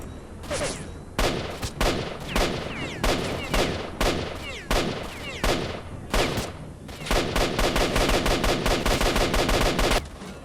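Rapid bursts of automatic gunfire and single loud shots from a firefight in the video game S.T.A.L.K.E.R.: Shadow of Chernobyl, with a sustained stretch of machine-gun fire near the end.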